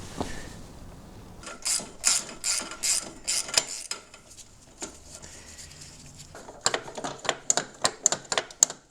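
A ratchet works loose the two M6 header bolts on a Suzuki DR650 motorcycle, with bursts of quick rapid clicks at close range, a pause, then another fast clicking run.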